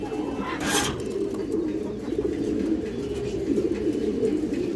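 Kaldom pigeons cooing in a loft, a low steady murmur of soft coos close by with a brief brighter rustle near the start.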